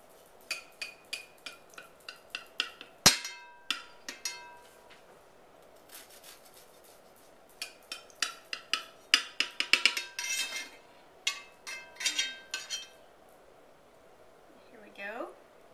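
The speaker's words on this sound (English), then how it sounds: "So I'm going to cut a piece and show you what it looks like." A serrated knife sawing through an angel food cake, with a rapid series of soft rasping strokes and a sharp clink of the blade, near and fairly quiet.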